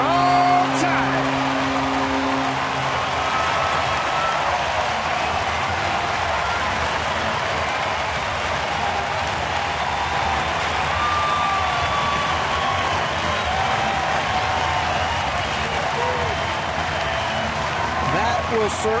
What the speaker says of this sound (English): That will certainly give the crowd something to cheer about.